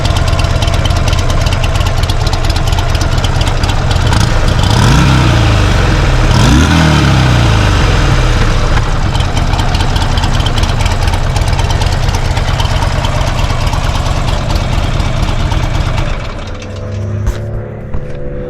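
A Buell Ulysses XB12X motorcycle idles loud and close, its big V-twin throbbing in a steady, lumpy rhythm much like a garden tractor, briefly blipping twice near the middle before settling and dropping lower at the end.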